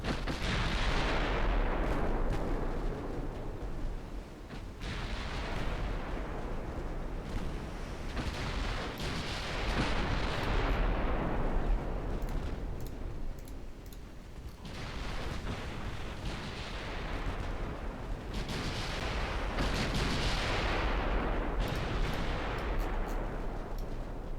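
Six-inch naval guns fire in a naval strategy video game, a series of deep rumbling booms, each swelling and fading over several seconds amid continuous distant battle noise.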